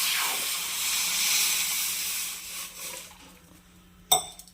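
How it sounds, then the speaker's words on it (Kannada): Two glasses of water hit a hot pan where something has been roasted black, giving a loud hissing sizzle that fades over about three seconds, followed by a short clatter of a utensil. "ಈಗ ಇದಕ್ಕೆ 2 ಲೋಟ ನೀರನ್ನು ಹಾಕೋಣ"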